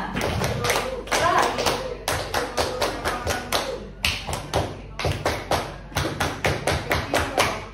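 Tepuk pramuka, the Scout rhythmic clap, performed by a group of adults on Scout Day, with crisp unison claps in repeated patterned bursts separated by brief pauses, loud and close, with a voice calling along at the start.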